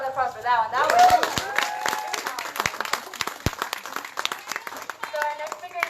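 Crowd applause at a school gathering after a speech: a voice speaks at first, then a round of scattered, lively clapping carries on with talking over it.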